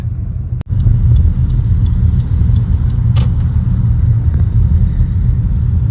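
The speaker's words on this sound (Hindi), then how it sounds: "So ट्रैफिक बहुत है तो मैं अभी अच्छे से ही चला रही हूँ, बहुत स्लोली चला रही हूँ." Steady road traffic rumble heard from inside a car creeping slowly through heavy congestion, loud and continuous with a brief sharp click near the start and no talking.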